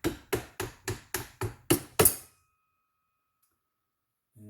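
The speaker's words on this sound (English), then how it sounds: "use that doweling again. Just make sure those are hammered in flush." A wooden dowel is hammered into a Ruger 10/22 rifle part: seven quick, sharp knocks in an even rhythm over about two seconds, fairly close, then silence with a faint thud at the end.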